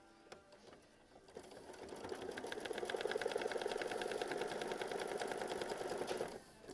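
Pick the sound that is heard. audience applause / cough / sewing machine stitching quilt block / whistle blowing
sewing machine stitching quilt block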